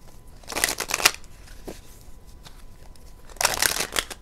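A deck of tarot cards is shuffled in two brisk, crisp bursts of rapid papery flicking, close and fairly loud, with a quieter stretch of soft handling and light taps between them.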